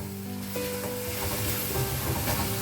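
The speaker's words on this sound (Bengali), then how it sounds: "পেঁয়াজ রসুন কাঁচা লঙ্কা আদা পেস্টটা এটা পাঁচ ছ মিনিট ভালোভাবে কষিয়ে নেব" Onion, garlic, green chilli and ginger paste frying in oil, a loud continuous sizzle with bubbling crackle and occasional stirring, close up and without speech.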